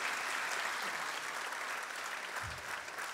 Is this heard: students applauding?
yes